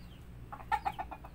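A rooster clucks in a series of short, soft, rhythmic calls on a backyard chicken farm, fairly faint over low background hum, with no voices.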